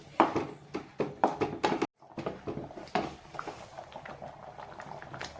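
Chana curry boiling in a pot: a soft bubbling simmer with irregular pops and plops, fairly quiet and close, with no voices.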